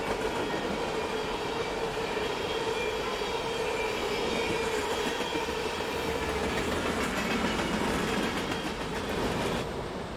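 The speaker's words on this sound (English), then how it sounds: "The trains passing Tenino are typically moving near or at track speed" A train passes through Tenino at track speed with a loud, continuous roar and rumble of railcars. Faint clickety-clack from the wheels runs steadily throughout.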